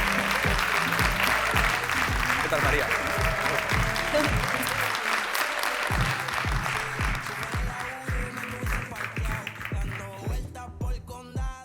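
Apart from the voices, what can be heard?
applause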